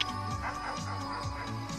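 A dog whimpers and yips in short, repeated whines, close by, with no talking.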